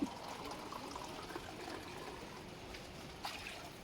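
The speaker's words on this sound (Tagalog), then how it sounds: "lagyan na rin natin ng tubig" Water poured from a glass into a cooking pot for a Filipino pork stew, a faint continuous trickling stream that runs steadily throughout with a small splash near the end.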